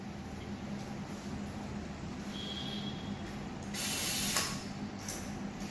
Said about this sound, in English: that means first screw is tightened.